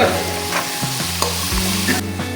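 Ground garlic paste sizzles in a pan for a beef biryani, a close, continuous frying hiss with a low steady hum beneath it and a few soft stirring knocks, and no voices.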